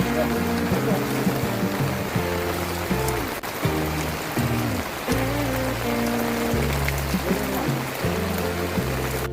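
Rain falls steadily during a rainy car-camping trip in a Starla (Staria) van with a rooftop setup, a dense continuous hiss with low rumbling tones and occasional dips throughout.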